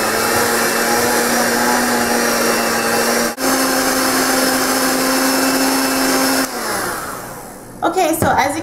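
Electric mixer creaming cream cheese and softened butter together, a steady loud whir that runs continuously, dips briefly, then lowers before stopping with a few clattering knocks at the end.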